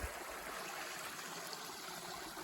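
A mountain stream runs along the Appalachian Trail near Siler Bald, a steady, soft rushing and trickling of water that continues evenly throughout with no voices.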